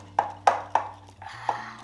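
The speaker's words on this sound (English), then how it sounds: "So now I'm gonna just whisk this all together." Flour and baking soda whisked by hand with a regular wire whisk in a bowl: four sharp taps, roughly evenly spaced, as the whisk strikes the bowl over a low steady hum.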